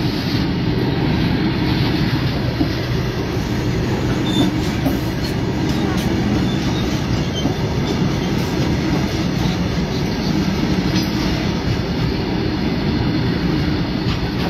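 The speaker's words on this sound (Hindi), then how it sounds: "मालगाड़ी देख सकते हैं आप, पटरी के ऊपर चल रही है" Freight train rolling along railway tracks at a level crossing in Narpatganj, a steady loud rumble and rattle of wagons passing close by, continuous throughout with no talk.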